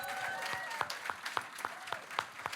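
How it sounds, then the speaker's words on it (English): Scattered applause at a youth policy summit, with distinct individual claps standing out in a loose rhythm over a thinner crowd wash and faint background voices. "Let's give them a round of applause."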